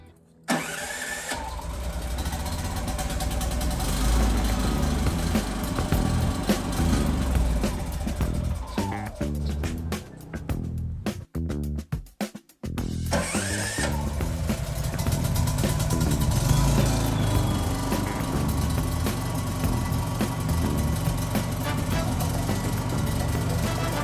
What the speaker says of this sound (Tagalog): So itest na natin yung mga generators natin para hindi tayo makapagpadala ng mga defective.